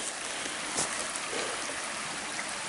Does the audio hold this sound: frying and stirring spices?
no